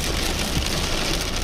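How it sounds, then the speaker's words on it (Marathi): Pre-monsoon rain falls on a winding road as a dense, steady hiss, heard alone, with a low engine rumble mixed in throughout. "पडत असलेला असा हा वळवाचा पाऊस"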